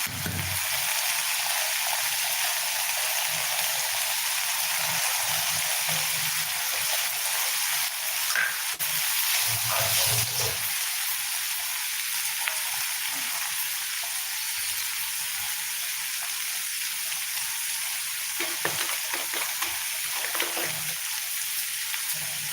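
Beaten egg poured into a hot pan with keerai greens for a home-cooked Tamil poriyal, frying in a steady, close broadband sizzle that crackles on without pause, with a few soft scrapes and no talking.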